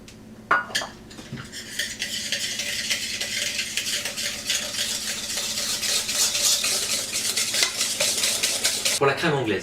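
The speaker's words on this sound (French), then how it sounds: "on va battre les jaunes d'œufs avec le sucre pour obtenir un mélange mousseux" A whisk beats egg yolks and sugar in a bowl for floating islands with custard, a steady, busy metallic scraping and clinking against the bowl that carries on close and loud with no talk.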